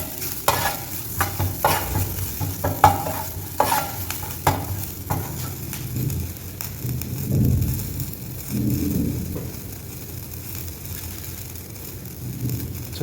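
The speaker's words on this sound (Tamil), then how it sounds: "ஸோ இந்த மாதிரி ஃப்ரை பண்ணுங்க நண்பா" Chicken roll snacks deep-frying in hot oil, with a series of scraping stirs and clatters in the first half, then a softer bubbling sizzle continuing at moderate loudness.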